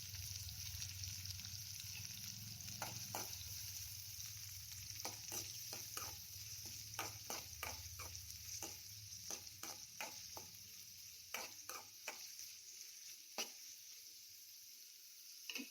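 Finely chopped large onions sauté in a pan, making a soft, steady sizzle with many quick clicking stirs and scrapes of a spoon. It is faint and close, with no voices.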